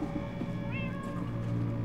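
A cat meows once, briefly and up close, in the video game Minecraft Story Mode, set against a steady low game background hum.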